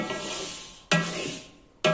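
Sesame seeds stirred as they dry-roast in a hot wok: two sharp scraping sweeps with a sizzling rustle that fades between strokes, close and fairly loud.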